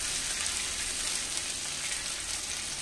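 Chopped garlic sizzles in a pan with small fish for a bowl-style chorchori, a steady, bright hiss of frying that holds even and close with no talk.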